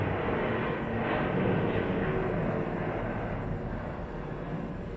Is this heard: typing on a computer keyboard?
no